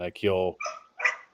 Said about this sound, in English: I'm sorry if you guys can hear those dogs in the background.